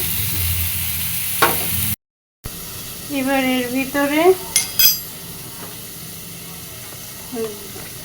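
Food fries in a pan with a soft constant sizzle and occasional utensil scrapes, while a voice speaks briefly over it partway through.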